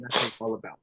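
A single sharp sneeze bursts out close to the microphone during a sports podcast conversation, and a voice speaks right after it.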